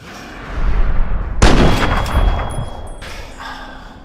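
A rifle fires in the video game Fallout 3 with one heavy, booming shot that rolls into a long echoing tail, then a fainter follow-up crack, loud and close with no talking.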